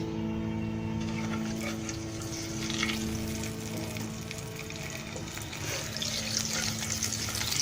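Yogurt-based masala sizzles and crackles steadily in hot oil for a fish curry, a continuous close frying hiss with faint stirring and no talking.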